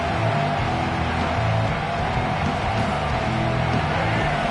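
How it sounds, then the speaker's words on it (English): Dense, steady roar of a large crowd filling a stadium, continuous and fairly loud with no single voice standing out. "This crowd bringing the energy and noise early."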